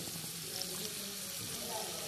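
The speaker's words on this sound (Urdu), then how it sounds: "پیاز میں نے ایک کاٹ کے رکھا ہوا ہے, تیل میں ڈال دیا ہے آئل میں" Chopped onion fries in oil with a quiet, even sizzle that stays steady throughout the short stretch, soft and close without sharp pops.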